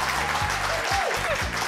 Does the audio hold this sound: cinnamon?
no